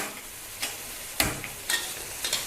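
Chili, garlic and coriander root stir-fried in a wok over low heat, heard as a faint, steady background sizzle broken by a few sharp scraping strokes of the spatula at irregular intervals.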